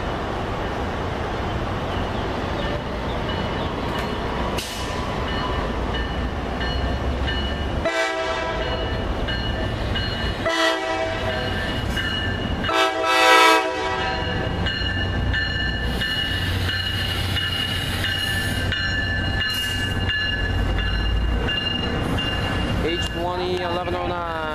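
A train pulls in on track 2 at a Dania Beach, Florida station, its horn blaring in several long blasts over rumbling wheels and clattering cars, with a voice talking over it.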